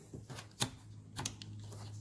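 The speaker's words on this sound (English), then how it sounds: "Zip tied it so it's tight." Zip tie ratcheting tight around wiring on a Ranger 900 fog light install: a few quick rasping clicks in short bursts, close and fairly quiet, with no talking.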